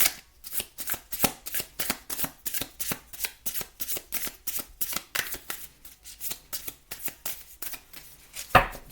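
A deck of tarot cards is riffled and shuffled in a quick, regular rhythm of crisp, close flutters, about two or three a second, with a sharper snap near the end. No one speaks.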